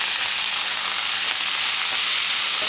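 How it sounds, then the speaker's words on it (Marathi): Corn kernels frying in oil with spices for a corn curry, giving a steady, dense sizzle that stays loud and even throughout with no voices. "आपण हे कॉर्न पण आता या तेलात टाकून देणार आहोत मसाल्यात"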